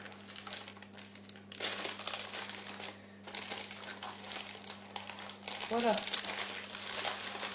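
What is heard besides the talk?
parchment paper being peeled off tart dough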